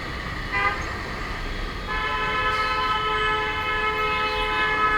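A vehicle horn in busy traffic blares in one long, steady blast that starts partway through and holds to the end over constant road noise.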